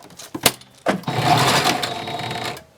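A sewing machine stitches a nose piece into a fabric face mask, starting with a couple of clicks before a short close whirring run that slows and stops.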